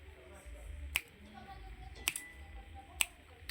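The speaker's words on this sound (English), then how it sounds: "let me just snap my fingers next to it" Three sharp finger snaps ring out close to a Samsung Galaxy A03 microphone, spaced about a second apart, crisp and distinct above a quiet room background.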